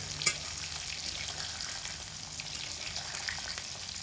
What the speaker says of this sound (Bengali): এরকম অনবরত হালকা হাতে নাড়াচাড়া করে ডিমের পিসগুলোকে ভেজে নিতে হবে